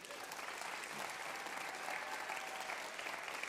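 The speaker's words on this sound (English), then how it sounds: "they deserve a big, big round of applause." Steady applause from a live audience at a public-television music show taping, dense and sustained throughout without a break.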